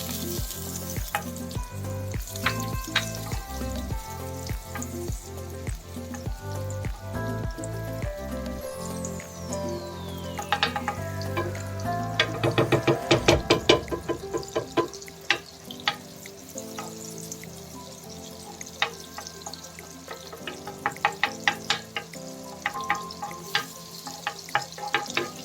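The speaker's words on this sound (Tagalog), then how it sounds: "Pag mainit na yung ating sizzling plate, maglalagay na tayong 2 kutsarang butter." Butter melting and sizzling on a hot sizzling plate, a steady loud crackling fry with bursts of spitting, over a background of music.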